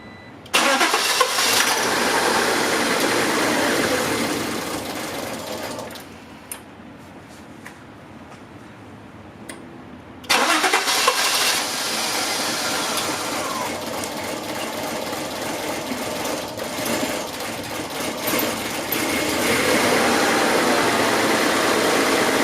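A 1992 Acura Legend with a no-start and misfire fault, fuel pressure regulator vacuum hose disconnected, cranks and catches, then runs at a steady loud idle; a brief quieter lull comes midway before the engine noise surges back and continues.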